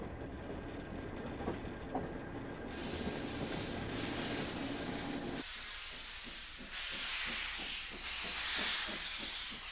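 A steam locomotive from a large private collection hisses and rumbles, then settles into a rapid rhythmic chuffing of exhaust beats with bursts of steam, fairly distant and continuous, no voices.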